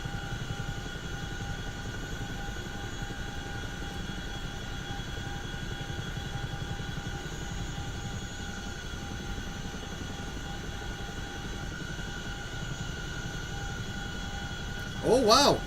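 CH-47 Chinook helicopter flying in a flight simulator game: a steady, droning rotor and engine hum with constant tonal whine, unbroken for the whole stretch, with radio-style talk over it and a brief louder burst at the end.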